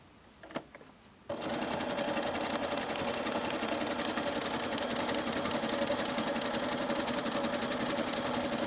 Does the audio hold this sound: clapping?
no